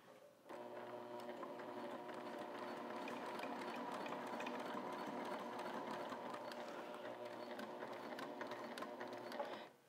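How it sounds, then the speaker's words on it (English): A sewing machine stitches a straight seam on a handbag, its fast, even mechanical whir starting abruptly and running steadily for about nine seconds before stopping, close and fairly quiet with no talk. "we're going to sew this seam straight to that line we put in at 1 7/8 of an inch"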